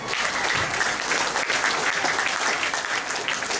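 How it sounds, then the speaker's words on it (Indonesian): A hall full of training attendees breaks into dense, loud applause that runs steadily for a few seconds, many hands clapping together with no single voice rising above it. "Aplaus dulu untuk Bapak."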